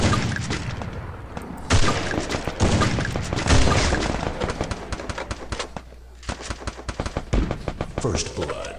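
Rapid bursts of gunfire crackle and pop in dense volleys, with occasional heavier booms, under a busy mix of game sounds and voices.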